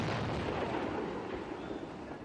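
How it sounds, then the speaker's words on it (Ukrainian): A 100 mm MT-12 Rapira anti-tank gun fires outdoors, giving a heavy, rumbling blast that fills the brief moment and then slowly decays. "Рапира – це 100-міліметрова, а значить заборонена мінськими угодами протитанкова гармата"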